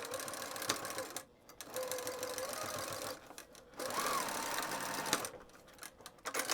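A sewing machine stitches a straight seam on a fabric pouch, its rapid steady needle chatter running almost without a break at moderate volume and pausing only briefly a few times.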